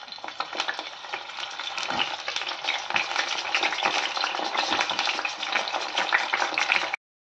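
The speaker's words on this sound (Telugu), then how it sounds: "ప్యాన్ పెట్టుకొని ఆయిల్ వేసుకున్న తర్వాత ఒకసారి వంకాయని ఫ్రై చేసేసుకుందాం" Brinjals fry in hot oil in a pan for Hyderabadi bagara baingan, a dense, continuous sizzle with crackling pops and occasional stirring scrapes, close and fairly loud, stopping abruptly at the end.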